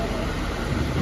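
Heavy rain pours down steadily in Bangalore after a long dry spell, a dense, loud, unbroken hiss of falling water with no gaps.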